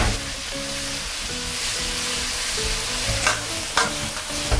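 Garlic, ginger, day lilies, yuba and shiitake stir-fried in a wok, a steady close sizzle with a few scraping stir strokes near the end and no voices.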